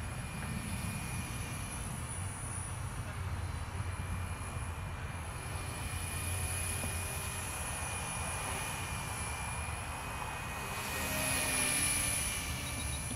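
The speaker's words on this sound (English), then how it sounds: "let me land this helicopter over here" A small Walkera V120D05 flybarless remote-control helicopter hovers nearby with a constant high-pitched motor whine and buzzing rotor hum that swells slightly toward the end.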